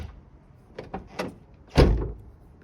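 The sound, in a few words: Subaru Forester car door closing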